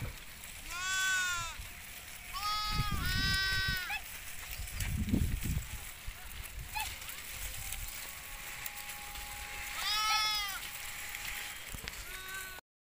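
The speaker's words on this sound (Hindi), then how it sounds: "ये भेड़े चार रहा है" Grazing sheep bleat in several loud, wavering calls, near and in short bursts, over an open outdoor village backdrop with low rumbling noise and some talk in between.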